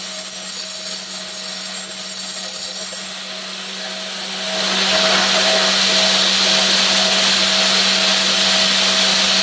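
An electric drill spins up to sharpen stump grinder teeth, giving a loud steady motor whine with a continuous grinding hiss that dips briefly before rising again.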